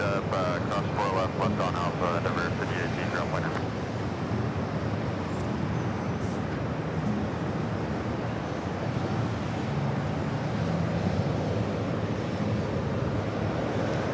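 A business jet, a Cessna Citation Latitude, rolls for takeoff on runway 4 Left at New York's JFK airport. A steady, broad engine roar carries on throughout from a distance, with busy road traffic noise underneath it.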